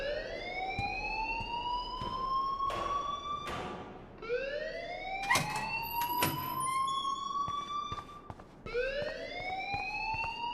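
A school alarm in Life is Strange sounds in repeated rising wails, each sweeping upward and holding before restarting, fairly loud and steady with faint background noise and no voices over it.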